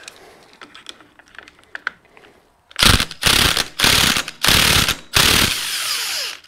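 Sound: wrench loosening a 21 millimeter nut

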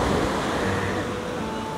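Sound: strong ocean waves

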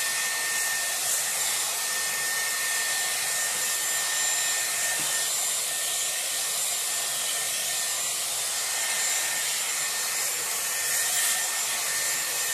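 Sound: Dyson Airwrap hair dryer blow-drying hair with round brush

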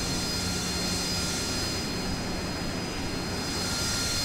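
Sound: jet aircraft engine on carrier deck before takeoff, Falcon BMS video game

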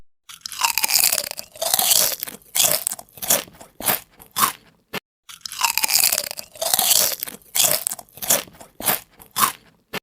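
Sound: crunchy bite of raw mango

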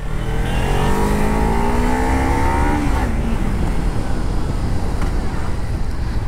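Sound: Kawasaki Ninja 300 motorcycle engine revving smoothly

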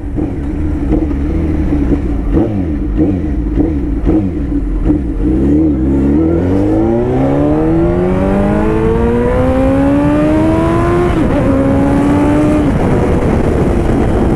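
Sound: sport motorcycle engine revving

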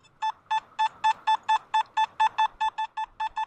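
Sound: Nokta Makro Simplex metal detector beeping over barber silver dime

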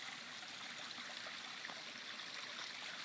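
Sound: flowing backyard waterfall

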